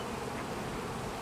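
Honey bees buzz steadily in a dense, continuous hum at an overwintered 2023 hive, loud and close throughout with no talking.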